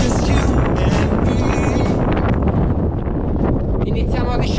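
Strong wind buffets the microphone on the snowy summit area of Monte Vettore in the Sibillini mountains, a continuous loud roaring rush with gusty swells throughout.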